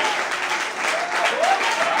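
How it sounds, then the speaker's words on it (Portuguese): A church congregation claps together in sustained, dense applause, filling the space steadily from start to finish with a faint voice underneath. "Bate palma e adora o Senhor. Mais fortes palmas, aleluia."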